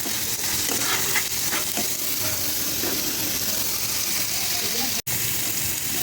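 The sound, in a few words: spice masala with turmeric and chili powder being sautéed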